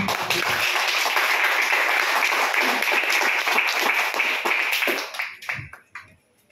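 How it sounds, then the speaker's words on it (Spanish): A church congregation claps their hands together in a dense, steady burst of applause that carries on for about five seconds, then thins out into scattered final claps and fades away. "Dele palmas al Señor."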